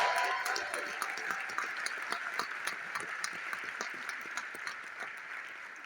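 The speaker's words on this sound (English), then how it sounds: "Give them a round of applause." An audience claps for medal-winning senior Olympians at a mayor's breakfast event in Atlanta, a steady patter of many hands sustained for several seconds at moderate distance.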